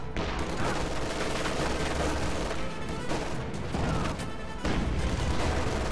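A demolition charge detonates in a competitive video game match, with loud, dense booming and crackling blasts that fill the whole stretch and surge again near the end.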